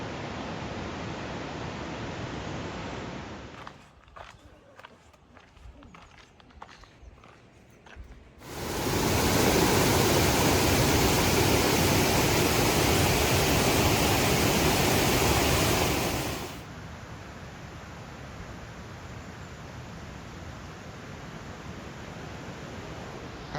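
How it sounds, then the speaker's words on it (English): A big waterfall at Plitvice Lakes roars as a loud, dense, steady rush for several seconds, standing out from quieter broadband water noise before and after. "And there they are, Plitvice Lakes, the big waterfall."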